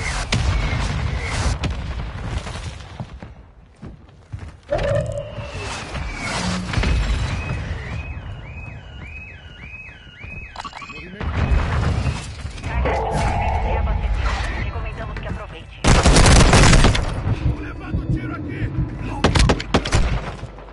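Mortar explosions and gunfire in a video game battle: repeated loud booms and sharp shot bursts, some near and some distant, with a whistling incoming shell in the middle and voices talking over the combat.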